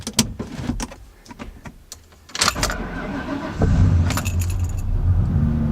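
Keys jangle and clatter before a Cobra sports car engine cranks and catches, settling into a loud, steady rumble close by, with no talk over it.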